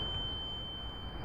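A thin, steady high-pitched ringing tone sits over a muffled, dull low rumble, like ears ringing after a gunshot, in the horror video game Engines in the Grass.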